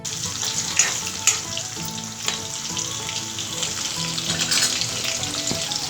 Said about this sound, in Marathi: तर मी लसूण टाकते, थोडी अशी जाडसर चेचायची आहे।